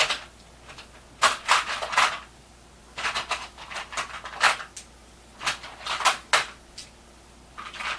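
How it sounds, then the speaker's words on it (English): A closet door being opened indoors, with a series of close, sharp clicks, knocks and rattles arriving in irregular bursts over several seconds. "Opening closet door."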